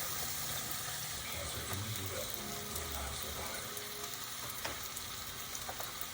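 Pieces of beef roast searing in a hot pan, a steady low sizzle and spatter running continuously at moderate distance, with faint clicks and utensil noises.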